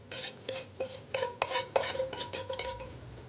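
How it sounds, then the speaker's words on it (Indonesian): A spoon stirring carrot cream soup ingredients (mushroom stock, salt and sautéed onion) in a pot, with close metallic scrapes and clinks against the pot in a quick, uneven rhythm. "Akan saya aduk."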